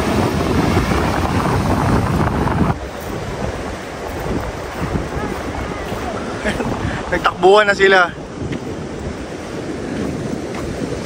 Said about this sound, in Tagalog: Malakas na ng alon.